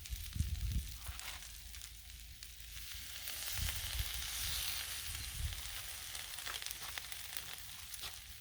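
Vinegar and hot sauce sizzle steadily on a hot Blackstone griddle while collard greens cook, a broad continuous hiss with soft stirring scrapes, no talking.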